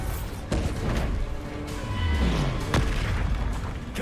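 Bombarda spell explosions in Hogwarts Legacy: a continuous rumbling, booming blast with sudden onsets, dense low-end roar and crackling debris throughout, loud and close.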